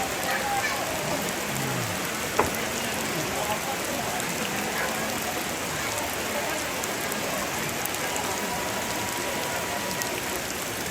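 Heavy rain falls steadily throughout as a dense broadband hiss, with one brief louder knock, recorded outdoors during a ma'piong cooking gathering for a wedding preparation in Tana Toraja.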